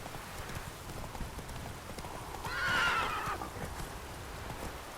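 Roach, a horse in The Witcher 3 video game, gallops with steady clip-clop hoofbeats and a brief whinny midway, heard at moderate distance over a soft rain-like background.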